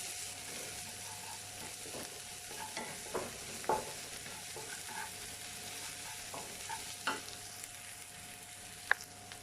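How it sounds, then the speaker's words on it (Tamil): Crushed ginger and garlic stirred into onions frying in a pan, a steady low sizzle under soft, sporadic spoon scrapes and taps close by, with no voices. "இப்போ நம்ம இஞ்சி பூண்டு தட்டி வச்சுருக்கதை போட்டுடலாம். ஸோ இதையுமே நல்லா மிக்ஸ் பண்ணி விட்டுக்குருவோம்."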